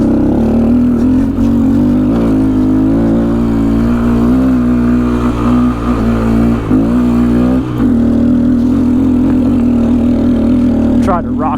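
Honda Grom motorcycle fitted with Shinko Mobber 505 tires riding on a paved road, a steady droning engine note that swells and dips as the throttle changes, with a brief drop near the end.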